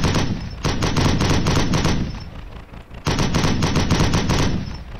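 Stock machine gun sound effect from a drivable vehicle pack for the Unreal 4 engine: two loud sustained bursts of rapid automatic fire, each lasting about two to three seconds with a brief pause between, no voices.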